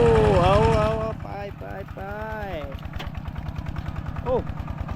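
A farm tractor works a paddy field after a storm in Laos, its engine chugging in a steady rapid thump close by, with a voice speaking loudly over the motor.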